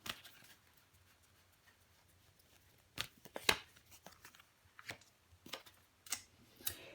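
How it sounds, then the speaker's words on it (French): A tarot card is laid down over the ace of cups during a reading, giving a few soft card taps and slides, brief and close, after a quiet stretch with no talk. "Je vais recouvrir l'as de coupe."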